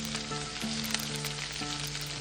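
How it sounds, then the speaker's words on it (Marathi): Cumin, mustard seeds and chopped onion, with green chilli and asafoetida, sizzling steadily in hot oil in a pan, a dense continuous crackle close up with no talk over it. "व्यवस्थित परतून घ्यायचं।"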